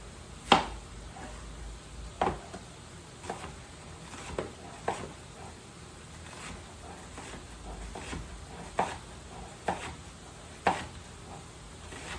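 A kitchen knife slices through an onion on a cutting board while shrimp po' boy fixings are prepared at home. About ten sharp, separate chops come at an uneven pace, close and fairly quiet.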